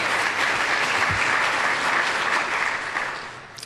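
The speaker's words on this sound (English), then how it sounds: "I'd like to give them a quick round of applause as well" Audience applause at an economic summit, a dense wash of clapping from a seated crowd, steady and loud for a few seconds before thinning out at the end.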